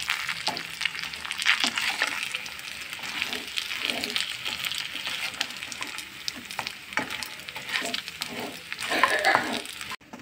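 Fish masala fries in oil while a homemade spice powder of coconut and coriander is stirred in. A close, steady sizzle is punctuated by repeated scraping strokes, with no talking.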